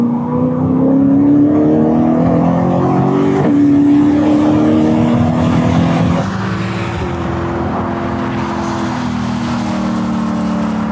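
Cheap Ferrari driven hard around a race track, its engine loud and close throughout, holding a high steady drone with small shifts in pitch as it pulls through corners, and no voices.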